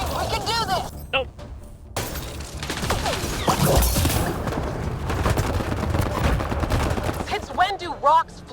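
Rapid bursts of gunfire and sharp impacts in Mass Effect Andromeda combat, loud and dense, with shouting voices over the shooting.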